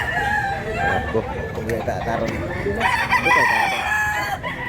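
A pumpkin sweater gamecock crows in one long, drawn-out call near the middle, close and clear, over farmyard clucking, while someone speaks briefly in Cebuano.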